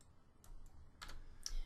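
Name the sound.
typing on a computer keyboard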